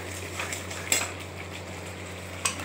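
Spiced potatoes and kidney beans stirred and fried in a pan for rajma, with a low steady sizzle and two sharp metal utensil clinks against the pan, close and alone.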